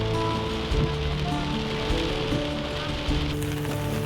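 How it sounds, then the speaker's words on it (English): Steady rain pattering on a surface, a continuous hiss with occasional heavier drops and a low rumble underneath. "Raining now."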